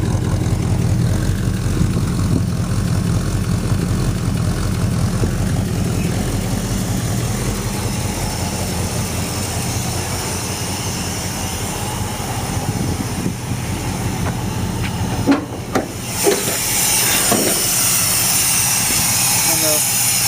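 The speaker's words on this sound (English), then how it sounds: "Still idles decently, but every once in a while it pops." Plymouth Suburban wagon engine idling with a steady low rumble, broken near the end by a few sharp, loud misfire pops.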